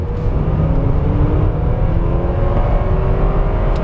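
A 1990 Lexus LS400 with 250 horsepower and a 4-speed automatic accelerates at full throttle, its engine droning loudly and rising slowly in pitch as a long gear pulls, steady and close with no talk.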